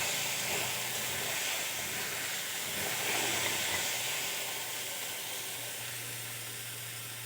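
Taro stolons fry in a wok with a steady broadband sizzle and hiss that holds at an even, moderate level throughout, with no talking.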